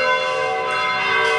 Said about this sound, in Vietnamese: Đang đánh chuông.